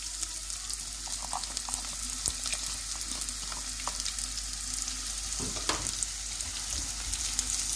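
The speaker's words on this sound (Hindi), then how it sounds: "ऑयल गर्म हो गया, अब मैं इसमें प्याज डालूंगी।" Onions frying in hot oil in a pan, a steady soft sizzle with occasional light clinks and stirring, no voices.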